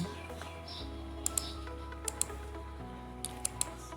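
Phone keyboard taps while typing into an app-store search bar: a few soft, sharp clicks in small clusters over a quiet room hum.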